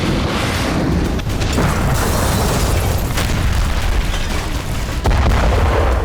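A loud, rumbling explosion in the Gaza war, with a sustained booming roar and crackling debris, dense and continuous, with a fresh blast near the end.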